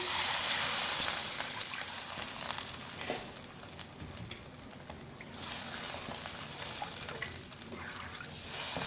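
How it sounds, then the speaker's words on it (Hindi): Water poured from a cup into a pot of mutton and potatoes for aloo gosht, a steady close trickle and slosh running through the clip with a brief sizzle, no voices. "पानी इतना शामिल करेंगे जिसमें आपका गोश्त आसानी से गल जाए"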